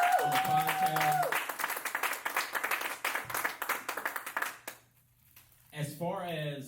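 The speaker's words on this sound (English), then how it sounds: "let's give them a round of applause" A live podcast audience gives a short round of applause and clapping that fades after a few seconds, with a speaker's voice over and after it.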